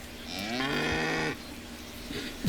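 A cow moos in a cattle insurance sponsor spot within the baseball video game MLB The Show 25, one long, clear, drawn-out low moo that stands alone, followed by a short quieter tail.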